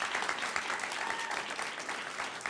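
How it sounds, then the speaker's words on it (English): Audience applause at a high school Poetry Out Loud competition in a studio, a steady wash of many hands clapping throughout, moderately loud with no break. "Please, another round of applause for them."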